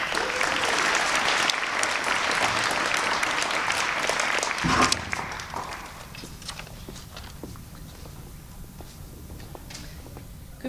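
Audience applause for young writers at an elementary school evening event. Loud, dense clapping fills the first half, then thins to scattered claps and fades to light room noise.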